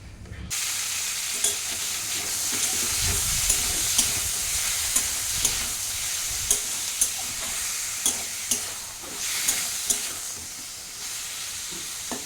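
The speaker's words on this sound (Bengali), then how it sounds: "আমার কড়াইটা গরম হয়ে গেছে, এখন আমি দিয়ে দেবো সাদা তেল" White cooking oil hisses in a hot wok for a chili chicken dish, a steady loud sizzle with scattered sharp crackles and pops, close up and without talk.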